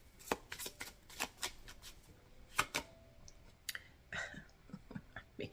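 Tarot cards are shuffled up close in quick riffling bursts, a flurry of soft papery flicks and taps with brief pauses between.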